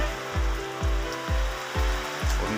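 Heavy rain falling on a rice field, a steady dense patter with a rhythmic low thumping pulse recurring about every half second.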